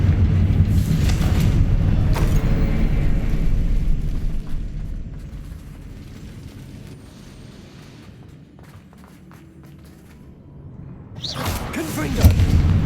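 Booming Confringo spell blasts from Hogwarts Legacy open with a loud, deep rumble that fades to a quiet lull, then a sharp fiery burst erupts near the end.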